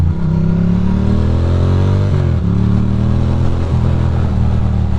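A Ducati motorcycle rides into strong headwind, its loud engine droning with shifting revs under heavy, constant wind rush.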